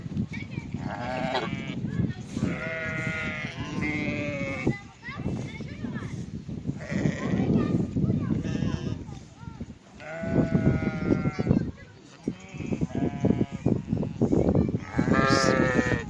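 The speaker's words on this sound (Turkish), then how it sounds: "Bizim koyunlar şimdi eve geldiler." Several sheep bleat repeatedly and close by as they return home before rain, their calls overlapping, with shuffling movement between them.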